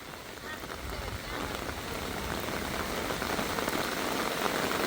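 Rain falls steadily at a rural Thai home, a dense, even hiss of drops that swells slightly and fills the whole stretch without pause.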